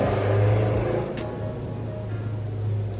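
Loud cars outside, a continuous rumbling engine drone with a swell early on, steady and fairly close, no voices.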